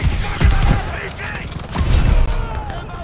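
Gunfire in the World War II shooter Call of Duty: Vanguard during the Battle of El Alamein, with repeated bursts and shots over rumbling battle noise while soldiers shout.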